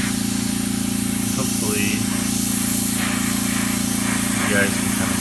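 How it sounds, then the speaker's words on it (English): A newly arrived airbrush gently sprays paint onto a Millennium Falcon model, a steady continuous hiss running under a constant compressor hum, while a person talks briefly over it. "I'm gonna just gently spray this on."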